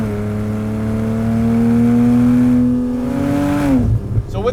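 Engine of a modified 2007 Porsche Cayman with automatic transmission pulling away from a light in first gear, a steady close engine drone that climbs slowly in pitch, then drops off sharply as the revs fall.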